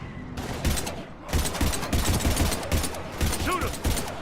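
Gunfire in the Mass Effect 3 video game during a firefight with husks, with rapid, loud bursts of shots that pause briefly and then resume, surrounded by dense game battle noise.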